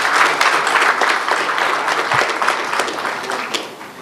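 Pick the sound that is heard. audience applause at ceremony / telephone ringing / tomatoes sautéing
audience applause at ceremony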